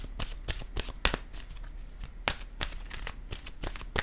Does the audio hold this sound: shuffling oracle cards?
yes